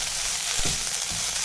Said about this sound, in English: So, just saute it out.